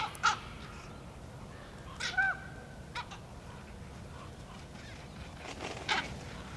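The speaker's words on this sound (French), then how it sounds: "c'est la corneille mantelée qui vient lui tirer la queue" A hooded crow caws a few times at a distance, short harsh calls scattered over steady outdoor background noise among birds gathering at a feast.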